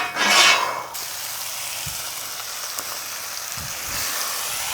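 Bacon frying on a flat-top griddle, a steady hiss of sizzling fat with a louder burst at the start and a few soft scraping knocks.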